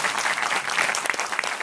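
Audience applause at an Italian film screening, a dense, steady burst of many hands clapping together in a hall, loud and sustained throughout with no speech over it.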